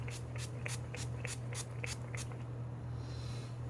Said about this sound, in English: I'm using Mario Badescu facial spray with aloe, cucumber, and green tea